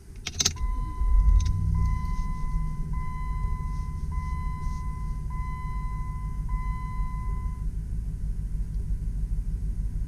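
A 2005 Jeep Grand Cherokee Limited 4x4 with 126,000 miles cranks briefly and catches, then settles into a steady, close engine rumble while a repeating electronic chime pings throughout.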